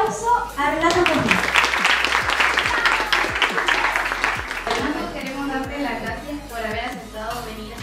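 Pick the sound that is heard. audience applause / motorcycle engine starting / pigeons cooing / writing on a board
audience applause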